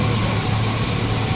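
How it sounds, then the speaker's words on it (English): A 2001 GMC Sierra 1500 pickup engine idles steadily with a low, even hum, heard briefly and fairly close. "So here's the motor. It is running now."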